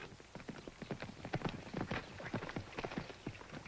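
Horse hooves clip-clop in a steady, lively rhythm, close and fairly loud, on a ranch with a fine-looking stallion being led in; no one talks over the hoofbeats.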